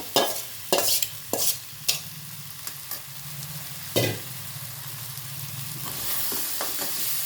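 Crab pieces dropped back into a cooked spiced masala for a crab curry, with a few sharp spoon scrapes and clanks against the pan over a low, steady sizzle that grows slightly louder toward the end.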